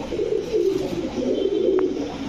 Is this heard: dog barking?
no